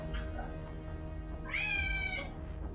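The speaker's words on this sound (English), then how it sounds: "Excuse my cat screaming. It's dinner time." A pet cat screams and meows loudly for dinner, one long drawn-out yowl standing out over background room noise, with a few fainter cries before it.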